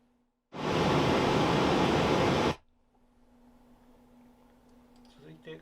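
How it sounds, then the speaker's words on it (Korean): A pink noise test signal for audio measurement in a 360 Reality Audio setup bursts in as a loud, steady, broadband hiss for about two seconds. It stops abruptly, leaving a faint hum and some quiet rustling. "핑크 노이즈 들릴 겁니다."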